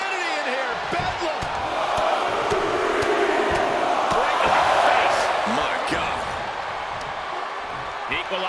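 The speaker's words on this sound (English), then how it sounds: "Look at this crowd." Wrestling arena crowd in the WWE 2K23 video game during Roman Reigns versus Brock Lesnar, a continuous roaring, swelling crowd noise with sharp impacts and cheers, under a commentator talking.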